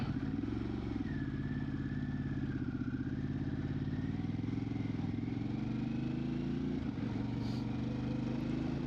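A Harley-Davidson Pan America motorcycle ridden in road mode gives a steady, loud engine drone with shifting rumble, plus wind noise, held throughout without voices.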